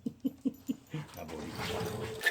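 A dog gives a few short, soft whimpering yips in a quick row, close by, before a longer whine blends with background noise and a person speaking.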